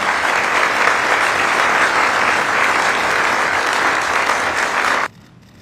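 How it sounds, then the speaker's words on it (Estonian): Dense, loud audience applause after a political speech, steady and full throughout before cutting off abruptly near the end. "Aplaus."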